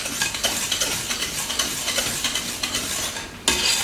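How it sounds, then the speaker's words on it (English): A utensil stirs eggs and 2 cups of sugar together in a bowl, producing a steady rhythmic scraping and swishing close by, with a sharper clink near the end and no voices. "I'm gonna go ahead and stir all of this together"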